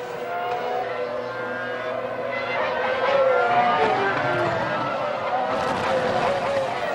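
Several 2007 Formula 1 race cars scream past in a steady, loud high-pitched engine whine with shifting pitch as they overtake, a commentator talking over the racing throughout.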